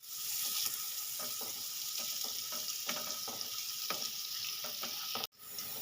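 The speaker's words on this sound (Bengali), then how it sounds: "এবার আমি কুচনো পেঁয়াজটা দেব দিয়ে পেঁয়াজটা একটু লাল লাল করে ভেজে নেব" Chopped onion frying in oil in a pan, a steady close sizzle with scattered spatula scrapes and stirring clicks, cut off by a sudden brief drop near the end.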